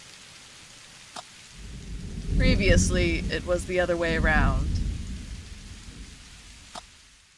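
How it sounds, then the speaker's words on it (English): Drizzling rain in a video game: a steady hiss of falling rain with faint occasional drips runs throughout, beneath a voice speaking in the middle. "A drizzling rain has replaced the chilly autumn wind."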